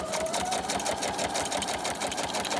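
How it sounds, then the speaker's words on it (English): A sewing machine stitches along the edge of fabric in a steady, fast mechanical chatter that runs without a break at close range. "I'm going to start by sewing up the edge"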